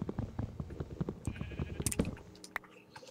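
Sheep bleat in Minecraft survival mode, a flurry of short, repeated game-animal calls close up in the first two seconds, followed by a few scattered clicks and softer game sounds.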